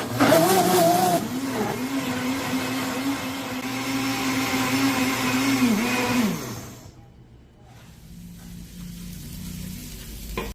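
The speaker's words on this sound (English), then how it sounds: "my mixture that I blended in the blender, the onion, a medium onion with a liter of water" A blender runs loud and steady, whirring as it purees a medium onion with a liter of water, then cuts off and leaves a quieter kitchen background.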